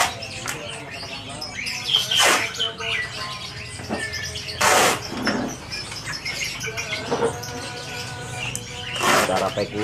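Songbirds chirp in bursts of sharp, bright calls, several overlapping tweets repeating near and loud over a background of low murmur and rustling.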